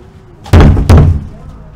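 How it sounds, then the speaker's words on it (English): Two heavy knocks strike a back door, loud and close, with a quiet pause between them, followed by fading room sound. "Who the fuck is knocking on my back door?"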